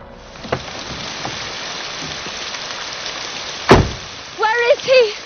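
Steady rain falls throughout at a moderate, even level, with a sharp knock near the middle and a voice speaking briefly toward the end over the downpour.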